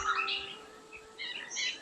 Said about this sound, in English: Fondly known as the helmet bird, long-tailed broadbill builds a dangling pear-shaped nest